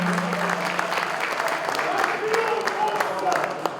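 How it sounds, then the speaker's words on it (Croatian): Concert audience applauding a performer at a live show in Stara Pazova, a steady wash of clapping and crowd noise filling the whole stretch at moderate loudness. "Može aplauz za Neđu, molim vas."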